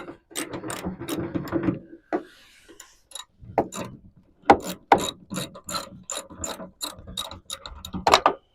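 A ratchet loosens a bolt on the door of a 1976 Chevrolet C20 truck, giving quick bursts of close, crisp clicking strokes separated by short pauses, with a few sharper metallic knocks.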